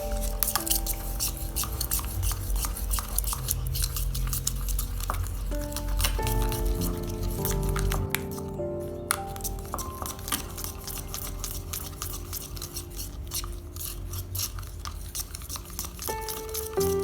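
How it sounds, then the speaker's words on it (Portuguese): Glitter is stirred into a little water with a utensil in a small container, making a long run of close, quiet scraping, clinking and wet squishing taps at an irregular rhythm, with no talk. "Agora é só mexer."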